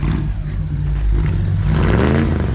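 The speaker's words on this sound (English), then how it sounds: "Dang, you got the glass packs on her? Rack the pipes." A car engine revs hard and loud through glass pack mufflers, giving a close, deep, rumbling exhaust roar that builds and holds for a couple of seconds with no talk over it.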